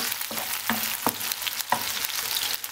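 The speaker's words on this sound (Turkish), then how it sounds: "şurada 2 dakika köfteyi yüksek ayarda kızartayım" Small meatballs of ground meat frying over high heat in a pan, a loud continuous sizzle broken by several sharp scraping stirs at regular intervals, close up with no talking.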